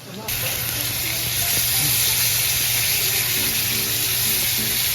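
Beans cooking in a pan sizzle and fry steadily, a loud, continuous hiss close by that holds evenly throughout with faint clatter underneath.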